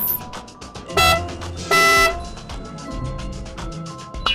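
Cartoon bus horn honking in two short, bright, loud blasts about a second apart, surrounded by light playful effects and no talking.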